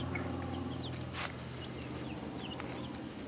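Rhode Island Red chickens cluck softly in a backyard flock, with a few faint, scattered clucks over quiet outdoor background.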